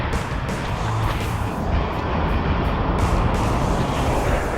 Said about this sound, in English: Check it out, this is Glastonbury traffic.